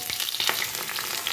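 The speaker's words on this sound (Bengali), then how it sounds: "এর উপরে দিয়ে দেব আমি কেটে রাখা সজনে ডাঁটাগুলো" Cut drumstick (moringa) pieces fry in hot oil with bay leaf and radhuni tempering, giving a steady, close crackling sizzle with no talk.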